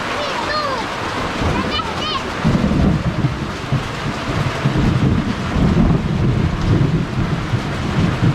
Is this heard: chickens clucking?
no